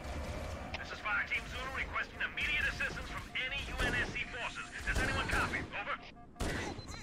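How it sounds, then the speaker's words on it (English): Gunfire from Halo: Combat Evolved, loud bursts of shots and blasts mixed with voices, dense and continuous, with a brief drop near the end before a final burst. "Who's shooting?"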